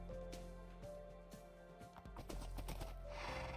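Horse hooves clip-clop in a Minecraft TerraFirmaGreg world, giving a quick run of close, clear steps over a steady droning background.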